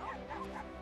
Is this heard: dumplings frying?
no